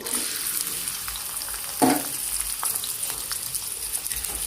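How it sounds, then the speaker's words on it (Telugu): Thinly sliced onions hit hot oil with garam masala, producing a steady, close sizzle and one brief utensil clank partway through. "ఆయిల్లోనే వేయాలండి సన్నగా కట్ చేసి పెట్టుకున్న ఆనియన్స్ అండి"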